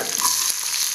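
Onions hiss and crackle as they fry in hot oil for a Kerala mango pulissery, a continuous close sizzle lasting about a second with faint stirring underneath.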